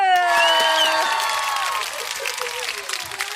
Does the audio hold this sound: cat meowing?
no